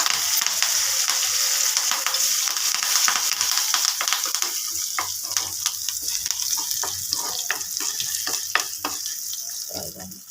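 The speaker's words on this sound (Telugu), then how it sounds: "కొంచెం వేగాలి మినపప్పు ఎల్లుల్లిపాయ ఇవన్నీ ఏగితే మంచి ఫ్లేవర్ వస్తాయి" Urad dal, garlic, dried red chillies, asafoetida and curry leaves sizzle and crackle in hot oil for a tempering for fenugreek-leaf chutney, a steady loud frying hiss with sharp pops and spatters throughout.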